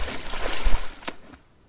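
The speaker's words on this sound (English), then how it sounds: "Water can make so many different sounds, from a splash" Water splashing and sloshing, a few close bursts of irregular splatter that fade out into near silence at the end.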